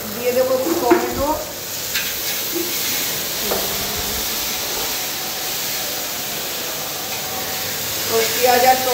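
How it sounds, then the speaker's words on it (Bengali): Onion and tomato fry in a pan, giving a continuous hissing sizzle with a few stirring scrapes and clinks near the start and end. "তো পেঁয়াজ আর টমেটো ফ্রাই করবো"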